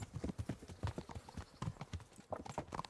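Horse hooves clip-clop in a steady rapid rhythm as a mount travels along a path in the medieval game Kingdom Come Deliverance, close and moderately quiet, with no talk over them.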